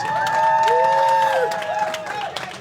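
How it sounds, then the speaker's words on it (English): Audience applause and cheering at the Seatrade Cruise Global 2025 presentation, with sustained whoops and shouts riding over clapping through a short burst. "A big applause for Clarivette."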